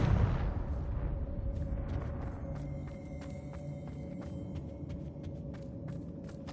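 A Confringo blasting spell from Hogwarts Legacy goes off with a loud boom at the start, then a long rumbling tail with scattered crackling debris fading under a steady low drone.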